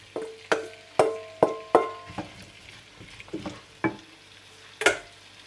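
Potatoes frying in a pot are stirred with a utensil, giving a series of loud, sharp scraping clacks at an irregular rhythm, each followed by a short ringing tone over a low, steady sizzle.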